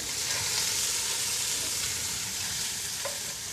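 Onions frying and being stirred in a cooking pot for a wood pigeon recipe: a continuous bright sizzle with soft scraping of the stirring, steady and close, no talk.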